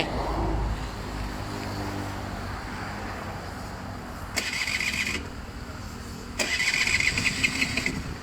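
An engine with a carburettor and coiled exhaust on a purple bike for sale cranks over twice and catches, running as a steady mid-pitched idle under background noise, with a short starter whine before each start attempt.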